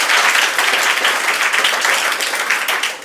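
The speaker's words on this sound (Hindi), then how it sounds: "सबसे पहले ताली बजा दीजिए।" Students at the Rainbow Adhyayan coaching centre in Parsagarh break into loud, sustained applause, a dense wash of many hands clapping together close by for several seconds.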